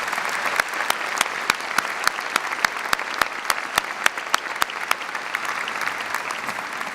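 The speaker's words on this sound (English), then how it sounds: "Would you please join me in giving them a round of applause?" A large graduation audience at a Nebraska undergraduate commencement claps in a steady, even round of applause. Individual sharp claps stand out from the dense crowd, and the sound holds at a constant level with no voices on top.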